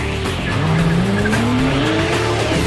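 A Porsche 911 GT3 with a 435-horsepower six-cylinder engine drives hard, its loud engine note climbing steadily in pitch while tires squeal over a dense roar.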